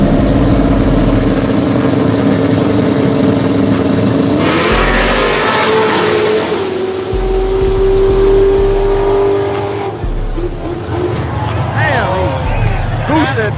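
Turbocharged race car engine revving loud and close on a track, climbing in pitch, dropping, then climbing again in bursts while people shout and talk over it.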